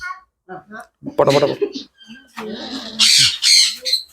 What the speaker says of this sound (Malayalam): ഇവിടെ ഒരുപാട് കിളികളുണ്ട്